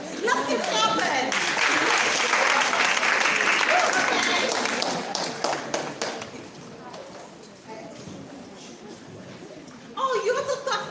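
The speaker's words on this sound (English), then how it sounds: "Let's keep clapping." Lively crowd applause at a celebration event, loud and dense at first, then tapering into lighter clapping with a host's voice and laughter over it, swelling again briefly at the close.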